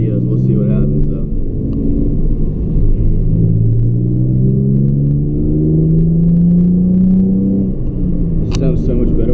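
Car cruising on a highway with the windows open, steady loud engine and road rumble with wind noise throughout, other traffic passing nearby.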